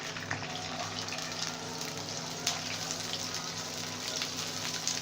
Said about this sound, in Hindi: उसके बाद इसके अंदर स्लाइस में कटा हुआ एक मीडियम साइज़ का प्याज ऐड कर देंगे।